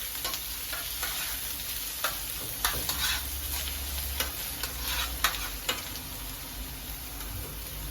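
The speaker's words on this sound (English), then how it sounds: "Allow that to saute as well." Onions sautéing in a pan for Jamaican-style lasagna, a soft steady sizzle with light spoon stirs and scrapes recurring every second or so, close and quiet with no talk.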